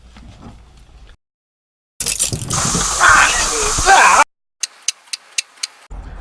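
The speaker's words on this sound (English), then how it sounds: "Tim, are you sure that you disconnected the water first?" Water sprays hard from a disconnected water heater hose during a home renovation, a loud rushing hiss lasting about two seconds after brief talk, then a few sharp ticks.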